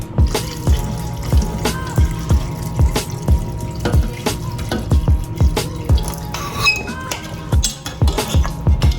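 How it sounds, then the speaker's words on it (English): Hot water poured into a cooking pot of Jamaican gungo (pigeon pea) rice and peas, a steady close splashing and trickling with clinks of the pot and periodic low knocks, no talk. "Guys, I'm gonna pour some more water."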